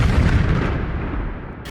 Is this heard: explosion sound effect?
yes